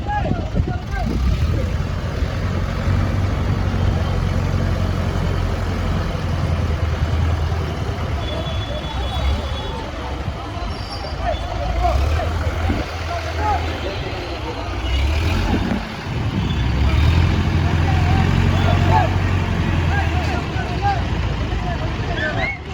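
A vehicle rolls through a Vinayagar Chaturthi festival procession in Sengottai, its low engine rumble steady and loud under constant crowd noise and people talking nearby.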